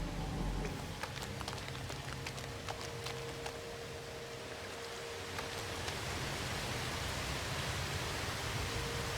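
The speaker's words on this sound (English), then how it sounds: "Oh, this non-stop caustic rain." Caustic rain in No Man's Sky hisses as a constant, dense wash of noise with scattered faint ticks and patters, with no speech.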